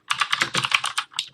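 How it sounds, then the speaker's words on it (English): Fast, clicky typing on a loud computer keyboard, close up, a quick irregular burst of keystrokes with a short pause near the end. "I know my keyboard's kind of loud"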